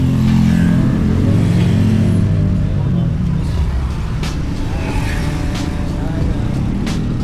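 Road traffic rumbles steadily outside, with engine drone and vehicles passing nearby, a continuous loud background of motor noise.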